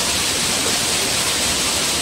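Water rushing and babbling at a clear natural spring lagoon, a dense, steady broadband wash that is loud and close, with no voices.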